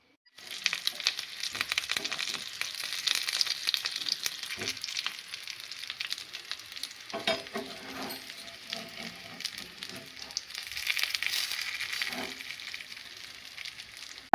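Patrode pieces fry in oil on a griddle with a continuous, crackling sizzle that holds fairly steady and close for the whole stretch, swelling slightly near the end, with no speech.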